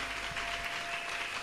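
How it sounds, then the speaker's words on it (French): A church congregation applauding and cheering during a sermon on evangelism: a dense, steady wash of clapping at moderate distance, sustained evenly throughout without a clear break. "Est-ce qu'on peut acclamer très fort?"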